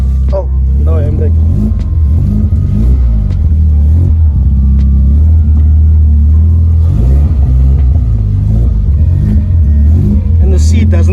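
Toyota Corolla KE70 engine under way, a loud steady low rumble that rises and falls through several rev surges and gear changes, close and continuous, with occasional cabin clunks.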